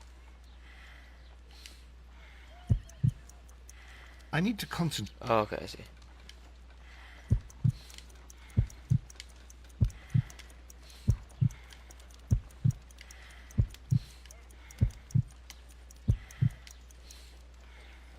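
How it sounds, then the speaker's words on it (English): A slow, weak heartbeat in the Sherlock Holmes: Crimes and Punishments video game thumps in an even rhythm of soft double beats, with someone briefly speaking over it early on. "I need to concentrate and count the heartbeats."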